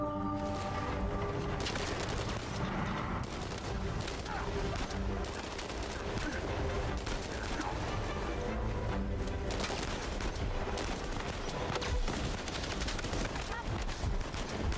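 Sustained gunfire in the video game Uncharted 4, dense bursts and rattling shots that run throughout without pause, mixed with game sounds.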